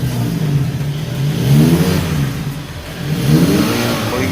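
A new car with an exhaust leak revs in two rising and falling swells, its loud, rough exhaust note sounding like a motorcycle close by.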